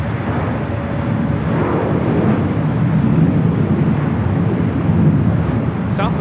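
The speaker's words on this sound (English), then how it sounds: "Airlines 3310 coming in from Las Vegas on the MAX 8." Southwest Airlines Boeing 737 MAX 8 arriving at LAX from Las Vegas, a loud broadband jet roar swelling and holding steady, with wind rumble and a faint voice underneath.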